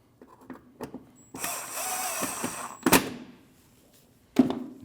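A power tool drives a Phillips screw into the bumper of a Honda CR-V, with a sustained whirring burst and short clunks and knocks of handling parts before and after, close and dry.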